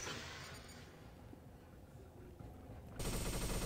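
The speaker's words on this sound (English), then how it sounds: "Fire against the wall here." Machine gun in a video game firing at a wall, a faint rattle of automatic fire under background hum, swelling into a louder, denser burst of shots in the final second.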